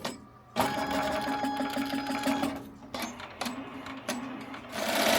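A Hatch 3 embroidery machine stitches out a design with a steady, busy mechanical rattle of needle strokes, broken by a few brief pauses and clicks before the stitching resumes.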